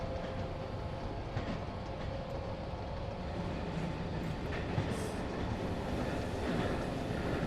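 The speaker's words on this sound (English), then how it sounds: "I am liking the noises of the tracks of the train, the ambient sounds." Train running on tracks in the video game Running Train, with a continuous low rumble of wheels and rail joints, occasional faint clicks and squeals, steady and moderately distant, with no talking.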